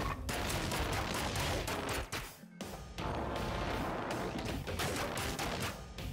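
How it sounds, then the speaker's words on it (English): Gunfire in the ScourgeBringer video game, a boss fight in the sewers, with rapid continuous shots and impacts layered over dense game music, dipping briefly midway before resuming loudly. "Let's also shoot him a little bit."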